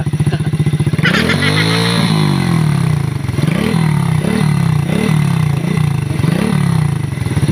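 Motorcycle engine idling roughly with oil coming out of the exhaust and white smoke, a problem that grows worse as it runs. It gives loud, steady chugging with rhythmic surges and pulses throughout, with no voices.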